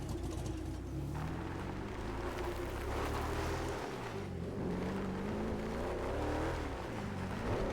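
A steady video game car engine drone with shifting pitch, like a car cruising and changing speed, with rushing background noise throughout and no voices.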